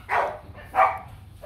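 Rottweiler puppies giving two quick, close, high yapping barks with a short gap between them, then the start of a third.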